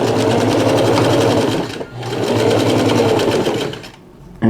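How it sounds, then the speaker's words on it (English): A sewing machine runs fast and steady, stitching side seams to close a pant leg made from shorts, with one short pause midway before stitching resumes and then stops. "a couple seams along the sides just to close up this pant leg"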